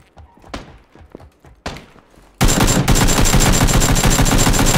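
Gunfire in the video game PUBG: a few scattered single shots and footsteps, then a sudden sustained burst of rapid automatic fire that runs loud and dense to the end.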